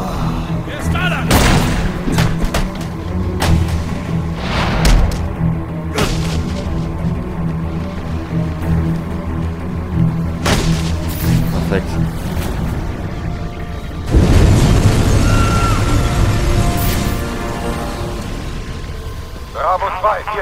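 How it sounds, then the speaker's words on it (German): A tanker truck explodes on a bridge in Batman: Arkham Origins, with heavy booms and thuds among game effects and voices, and a loud, sustained blast rumble in the latter half. "Die Ursache der Explosion war ein Tankwagen auf der Brücke."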